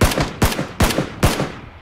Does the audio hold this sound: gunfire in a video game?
yes